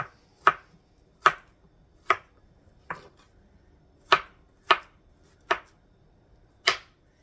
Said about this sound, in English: And you're just going to slice them.